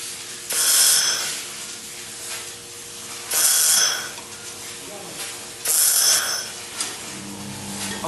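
A 1500 W handheld laser welding machine tack-welds metal pieces in three separate hissing bursts, each lasting under a second, with quieter mechanical sounds in between.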